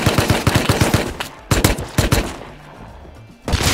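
AK rifle fire in a first-person shooter video game: rapid bursts of sharp automatic shots, a second volley after a pause, a quieter gap, then firing resumes at the end.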